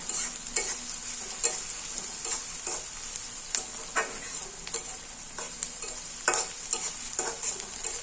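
Chopped onion fries to a brown colour in a pan on a gas stove, a steady crackling sizzle broken by intermittent scrapes and taps of a stirring spoon, close and moderately loud, with no talking.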